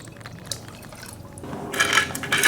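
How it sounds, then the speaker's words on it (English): Mercury tipped from a container into a gold pan already holding fresh water, used for recovering gold from black sand: a soft liquid trickle that swells into a louder, splashing pour in the final second, with no talking. "I'm going to dump my mercury straight from here right into there."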